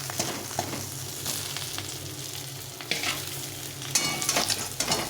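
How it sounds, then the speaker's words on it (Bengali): Fish frying in a little oil in a pan, a continuous close sizzle with scattered crackles and light scraping clicks as the pieces are turned. "আমি আর এক পাশটা ভালো করে ভেজে নিচ্ছি।"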